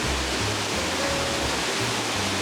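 A waterfall seen on a stair-climb hike, heard as a steady, dense roar of rushing water that stays even throughout with no voices.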